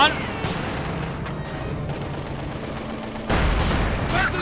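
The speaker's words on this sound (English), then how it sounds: "Heavy mortar rounds going down. Panzer fires on the T-35." Gunfire and tank fire in a Company of Heroes 2 battle, with Panzer shots and heavy mortar rounds: dense, rumbling bursts and booms that surge louder near the end, with a voice talking over part of it.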